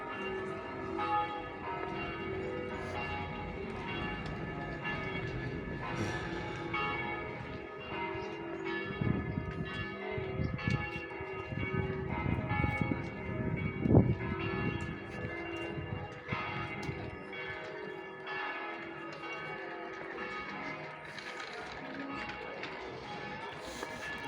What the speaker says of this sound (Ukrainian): Як гарно, якщо чути, там дзвони, а там грає музика.